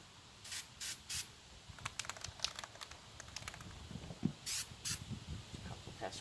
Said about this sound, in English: You just spray it straight on.